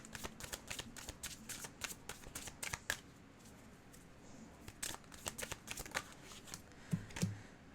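Slippery tarot cards being shuffled by hand, a steady run of soft papery flicks and riffles close by, with brief pauses and no voices.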